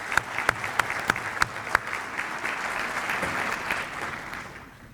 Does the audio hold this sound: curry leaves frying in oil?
no